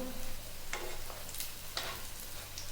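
Oil dabbed around the edges of a suji cheese paratha crackling on a hot pan, a steady close sizzle with a few soft stirring and scraping touches, no voices.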